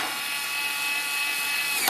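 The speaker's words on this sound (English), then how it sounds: "It makes every other cordless screwdriver feel like a toy." A compact cordless electric screwdriver whirs with a steady high-pitched motor whine while driving screws into the plastic chassis of an RC boat build, continuous and close.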